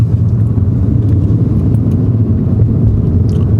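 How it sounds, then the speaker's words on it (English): A car engine hums steadily from inside the cabin during a driving lesson, holding a constant low rumble and faint drone throughout with no clear gear changes or revving peaks. "Come on, snap her up through the gears"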